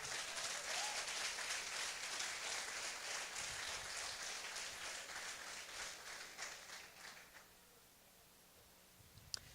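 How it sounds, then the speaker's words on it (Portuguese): Members of a church congregation applaud during a worship seminar, a fairly faint and diffuse patter of many hands that slowly thins out to a few scattered claps and then quiet. "Se você crê, dê um aplauso para Ele."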